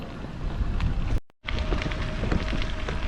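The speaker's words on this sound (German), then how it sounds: "Wir sind beim Rotsee und der Wind geht." Wind gusts across the open shore of Rothsee lake in Franconia, a loud, steady rushing buffeting the microphone, broken by a brief silent gap before the blustery noise resumes.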